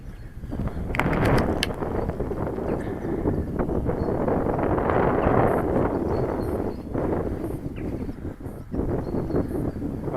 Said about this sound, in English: The wind's going across the field again